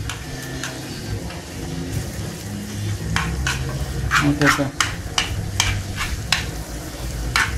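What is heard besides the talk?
frying food in a pan for soup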